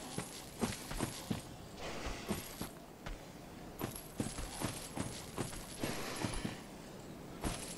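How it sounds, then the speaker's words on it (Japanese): Footsteps in Dark Souls III sound as a run of hard, clattering steps, some quick and some uneven, over a steady hiss of ambient noise, fairly faint with no speech. "なんか足音聞こえるね。"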